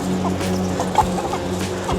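Hens at a local chicken farm in Hong Kong cluck steadily at close range, a dense overlapping chatter with a few sharper clucks over a constant hum.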